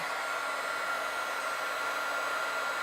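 A craft embossing heat gun blows hot air in a constant, loud, even whoosh held close and steady throughout, alone with no voices.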